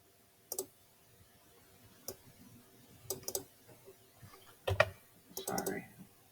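Several sharp clicks from a computer mouse, scattered singly and in quick pairs and triplets, close and fairly quiet against a faint background hum.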